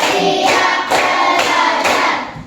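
Schoolchildren clap in unison to a counting routine in a classroom, steady rhythmic bursts repeating about every half second, near and full, with no voices over them.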